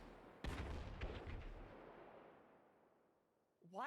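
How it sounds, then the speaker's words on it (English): Several loud blasts outdoors, thought to be a chain of cars exploding, with a sharp boom and a few rumbling follow-up bursts in the first second before fading into a long decaying rumble. "Chain explosion of cars, maybe."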